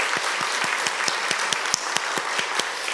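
Church congregation applauding in welcome during a Sunday service, a steady crowd of clapping hands with a few sharper individual claps standing out rhythmically, moderately loud and without talk.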